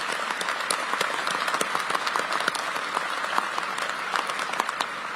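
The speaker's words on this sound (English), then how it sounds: "give a round of applause for our family members that are here" At a welcome home ceremony for the 44th Infantry Brigade Combat Team, the crowd applauds the soldiers' family members with sustained, even clapping from a large audience, individual hand claps popping out of the broad wash.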